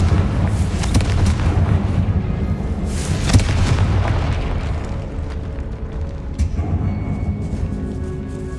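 A Confringo spell in Hogwarts Legacy erupts in heavy booming blasts, a couple of sharper impacts rising over a rolling low rumble that slowly fades toward the end, loud and close.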